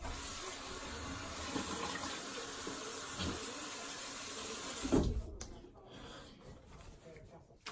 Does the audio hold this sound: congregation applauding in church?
no